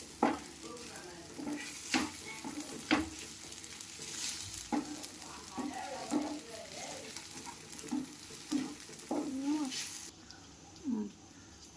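Curry leaves and mint sautéing in a pan for curry leaf chutney, a soft sizzle punctuated by repeated stirring scrapes and spoon knocks, with quiet background chirps and murmuring voice.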